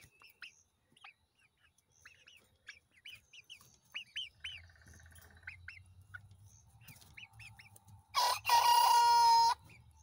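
A young rooster crows once near the end, a loud, strained, wavering call that follows scattered chirps and clucks from backyard chickens kept in a van coop.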